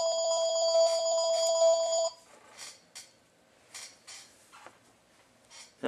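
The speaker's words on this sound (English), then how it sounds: "Somebody answer the damn phone already." A house telephone rings with a steady electronic trill for about two seconds near the start, then stops; afterward only faint clicks and small handling noises are left.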